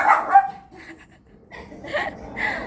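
A puppy gives a few short, sharp yips and barks, close and fairly loud, spread across a couple of seconds with quiet gaps between.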